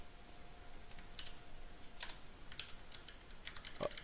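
Quiet, close typing on a computer keyboard: irregular light key clicks spread across a few seconds, with one slightly louder tap near the end, no voices.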